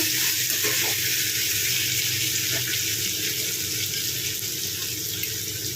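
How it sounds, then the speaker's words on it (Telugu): Cut eggplant pieces are added to cooking tomatoes in a pan, giving a loud continuous sizzle with a hissing, watery texture throughout. "ఇప్పుడు కట్ చేసిన వంకాయ ముక్కలు వేసుకుందాము"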